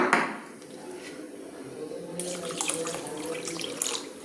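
Tap water runs steadily into a pot as rice is rinsed for a vegetable khichuri, a close, continuous splashing that swells louder in the second half.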